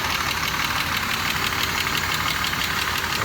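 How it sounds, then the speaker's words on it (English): A 2001 Chevy Impala with a blown head gasket idles up close, a steady, rough, knocking drone with a hissy, vibrating texture running unbroken throughout. "The engine was shaking really bad"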